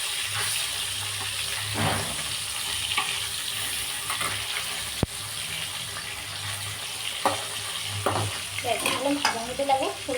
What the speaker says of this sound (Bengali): এইদিকে তো হচ্ছে মাছ ভাজা।